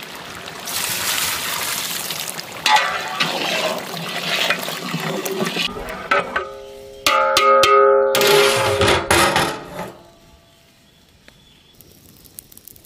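Water for a village-cooked mutton biryani gushes and splashes into a large pot in bursts, loud and close, with sloshing and pouring sounds before tapering to a quiet trickle.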